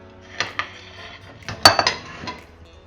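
Dishes and a large mixing bowl clink and knock on a kitchen counter while biryani masala is made at home, a few sharp close clatters with a cluster of louder clinks near the middle, no talking.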